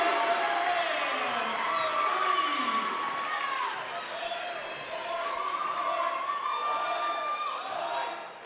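Crowd at a high school basketball game between Girard and Frontenac roaring after a three-pointer, a sustained loud cheer with shouting, whistling tones and a commentator talking over it.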